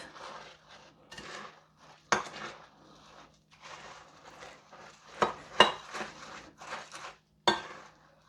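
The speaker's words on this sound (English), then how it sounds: "now I'm just gently going to stir this around" A spatula stirs a thick peanut butter ball mixture in a bowl, soft scraping passes punctuated by several sharp knocks against the bowl's side, close and quiet.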